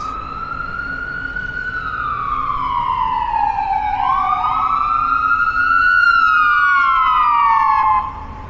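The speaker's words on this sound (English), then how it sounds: "wait for that ambulance to pass." An ambulance siren wails in long sweeping tones that rise and fall, loud and steady as it passes close by on a downtown Hamilton street, then drops off at the end.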